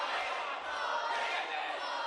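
A small group of wrestling fans in the back row of a modest venue cheer and shout, a steady, slightly distant wash of crowd voices with no clear words.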